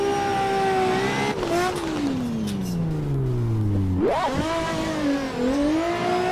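Drift car engine in the racing game Assetto Corsa during a virtual drift championship, revving loudly with rising and falling pitch sweeps, a long descending pull, then a sharp rev spike and renewed high-pitched engine whine.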